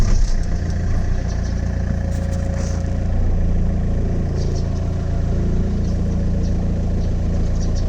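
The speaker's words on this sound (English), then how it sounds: "Typical diesel sound," A 1998 Opel Vectra 2.0 DTI diesel idles steadily with a low, even rumble and a faint clatter, close up and continuous for the whole stretch with no talking.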